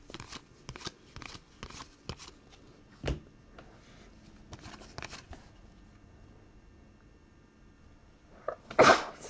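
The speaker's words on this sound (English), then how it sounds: "I had to sneeze into my shoulder there." A single sharp sneeze into the shoulder bursts out loud and close near the end, after a stretch of quiet shuffling and handling sounds, with no talking.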